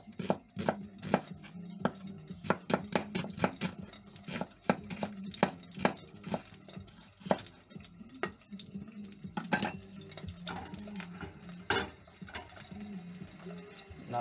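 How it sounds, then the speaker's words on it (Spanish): An onion is sliced julienne on a cutting board for a burger, with a knife striking the board in quick, uneven bursts of sharp taps close by. "Empezamos cortando la cebolla en juliana"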